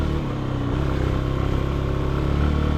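A CFLite Dual 250 light motorcycle riding through a forest, its engine a steady close drone with slight rises in revs and rattling, lasting the whole stretch without speech.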